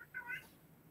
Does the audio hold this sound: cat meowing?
yes